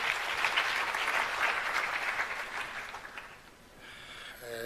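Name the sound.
audience applause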